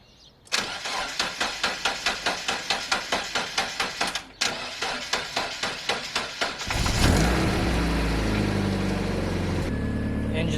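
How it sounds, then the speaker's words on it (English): A car engine with a nearly dead battery cranks slowly in a steady, labored rhythm of about twenty turns, falters briefly, then catches and settles into a loud, continuous run. No one speaks. "Engine started, battery was almost dead and barely cranked."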